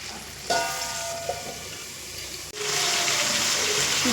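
Vegetables and fish simmer in a pan over a low flame, giving a steady soft sizzle and bubbling hiss, with a brief clatter near the start and a louder burst of sizzle partway through.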